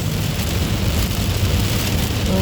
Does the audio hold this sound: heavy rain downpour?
yes